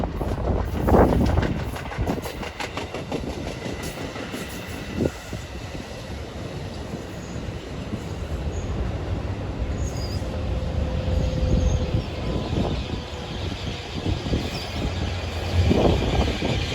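An NJ Transit train bound for Newark rolls past in New Jersey, its steady rumble and rail noise holding for the whole stretch, with some clattering wheel sounds and a brief squeal.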